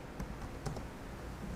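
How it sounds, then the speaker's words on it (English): Typing on a computer keyboard: a few faint, scattered key clicks over a steady background hum, with no voice. "I'm going to type Python"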